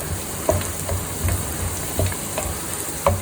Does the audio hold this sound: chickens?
no